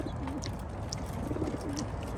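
Pigeons coo softly during road training, low repeated rolling calls close by over a steady background hiss, with a few faint higher chirps mixed in.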